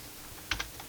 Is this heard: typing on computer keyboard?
yes